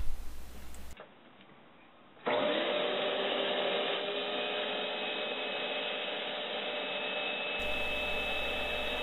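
A small electric vacuum pump switches on with a loud steady whine after a brief quiet pause, drawing air out of a space saver storage bag and running continuously with a slightly rising tone.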